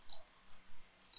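A computer mouse clicking, two small sharp clicks at the start and end, faint and close, with quiet room hiss between and no speech.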